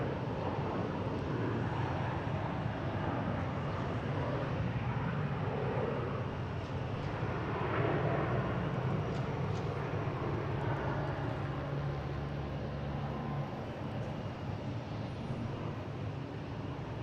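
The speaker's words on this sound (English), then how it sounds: "And Iberia coming in from Madrid." An Iberia airliner on approach into Boston Logan after a flight from Madrid: a steady, broad engine roar with a low rumble that holds at a fairly constant level throughout, with no voices.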